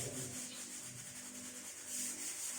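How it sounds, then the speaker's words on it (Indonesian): Dried wood being sanded by hand with sandpaper before staining, giving soft, rhythmic back-and-forth rasping strokes that are close and faint, with no talking. "kemudian kita amplas sebelum menuju proses ke pewarnaan supaya nanti pada saat diraba tidak terlalu kasar ya"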